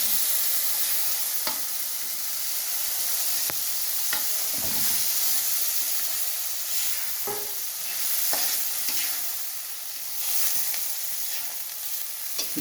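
Ground spice paste fries in a pan with a continuous bright sizzle, punctuated by repeated sharp scraping and clicking strokes of a spatula stirring it, close up with no talk.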